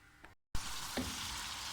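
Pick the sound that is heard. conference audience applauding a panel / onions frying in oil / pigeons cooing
onions frying in oil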